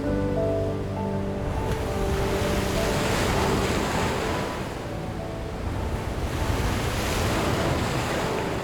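Sea waves surge and wash through an arched rock entrance with dark geometric stone walls, a continuous echoing roar of surf with gusting wind noise and two broader swells rising and falling.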